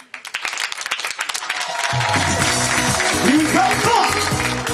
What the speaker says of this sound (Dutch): Dames en heren, mag ik een zeer daverend applaus voor Stanley Hazes met de Sneuvelkroeg.